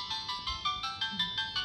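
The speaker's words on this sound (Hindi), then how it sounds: "ओ देखो देखो किसका फोन है," A phone ringtone plays a repeating electronic melody in quick regular pulses, fairly close and clear, while a child and adult are at home together.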